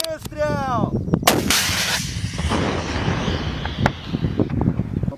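An RPG-22 rocket launcher fires a loud, sharp blast with a rolling boom and rumbling echo, followed by lingering outdoor noise and a few faint clicks.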